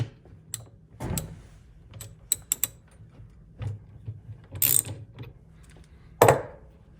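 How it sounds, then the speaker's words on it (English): A seven-eighths ratchet works on a Harley-Davidson ratchet top during disassembly, giving scattered sharp metallic clicks and a few louder clanks at irregular intervals, close by, with no talking. "Seven-eighths ratchet."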